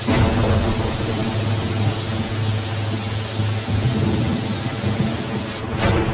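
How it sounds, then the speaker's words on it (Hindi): Heavy rain pours down steadily with a deep rumble of thunder rolling underneath, loud and continuous throughout. "फिर लगातार 15 दिनों तक बारिश होती रही"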